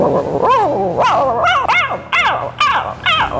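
A person imitates a small dog barking, producing about seven short, high yapping barks in a quick, steady rhythm, loud and close with no other talk.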